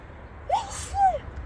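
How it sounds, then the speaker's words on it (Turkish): A single close sneeze, a sharp intake of breath followed by a quick burst, in a quiet room. "Hapşıracak."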